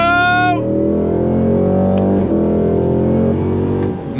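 A 2026 Cadillac CT5-V Blackwing pulls hard through the gears, its loud engine note rising in pitch, cutting briefly at a quick shift, then climbing steadily again from inside the cabin.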